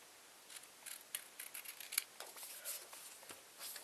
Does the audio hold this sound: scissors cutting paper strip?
yes